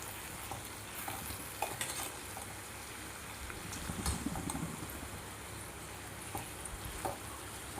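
Ivy gourd (dondakaya) fries in a pan with a dense, constant crackling sizzle like light rain, quiet but unbroken, with small pops and occasional stirring scrapes.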